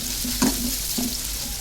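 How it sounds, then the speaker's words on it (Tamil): Large onions with curry leaves sauté in hot oil for a Tamil home-style curry, a steady close sizzle with a brief stir scrape partway through. "பெரிய வெங்காயம் வந்து ஒரு கைப்பிடி அளவு சேர்த்துக்கலாம் வெங்காயம் வந்து நல்லா வதக்கி விட்டுக்கலாம்"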